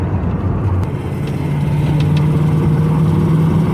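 A V8 Fox Body Mustang with a steady, loud engine drone, driving at an even pace with slight revving and no talk.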